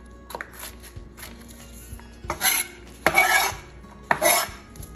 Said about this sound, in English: dice your onions for your salmon cakes. Not too fine, but not big.